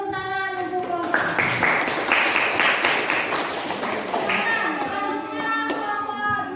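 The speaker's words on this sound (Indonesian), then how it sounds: "Beri tepuk tangan untuk Bapak." An audience at a school coaching session applauds a presenter with steady, moderately loud clapping over several seconds. Voices are heard through it, including a few children's voices.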